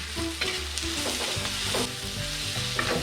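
Sliced onions frying in an oiled pan on a home stove in Kerala, a loud, steady crackling sizzle with occasional stirring scrapes, no voices.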